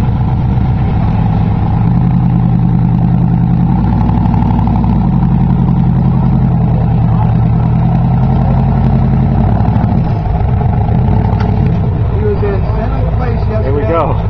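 A rock crawler buggy, the Rock Bug, grinds slowly over rocks at a rock crawling competition, its steady engine drone and low rumble continuous throughout, with crowd chatter and commentary mixed beneath.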